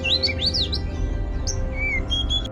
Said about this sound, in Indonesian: suara burung terdengar lagi dari dalam lorong sebelah kanan